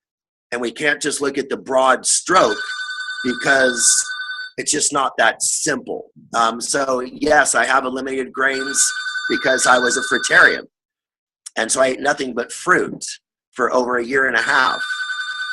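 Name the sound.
telephone ringing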